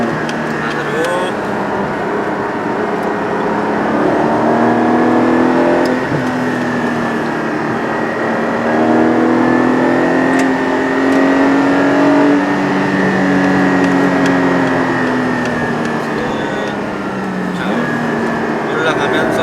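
Porsche Cayenne Turbo GT accelerating on a racing circuit, a loud steady engine drone with rising and falling revs heard from inside the cabin, with someone talking over it.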